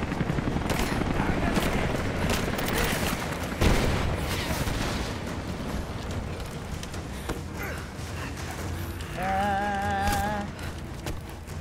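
Gunfire in the video game Rise of the Tomb Raider, a dense, continuous stretch of game combat noise with a sharp bang near the start and tonal effects toward the end, with talking mixed in.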